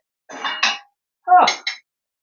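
Dishes and a lasagna dish clink and clatter together in two short bursts, close and fairly loud, with a brief pause between them.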